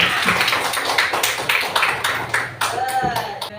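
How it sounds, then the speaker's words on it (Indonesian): Pupils in a primary school classroom clap together in a short round of rhythmic applause, moderately close, while a teacher's voice speaks over it. "Tepuk tangan dulu, Sania."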